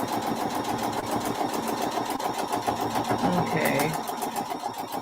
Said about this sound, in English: I'm going to sew on the line.